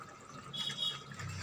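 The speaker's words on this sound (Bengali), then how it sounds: "এবার একটু ঘি দিয়ে দেবে," A little ghee is poured into a lentil curry, a brief soft liquid pour with faint splashing close by.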